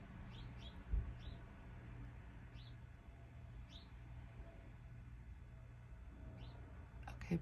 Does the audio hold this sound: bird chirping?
yes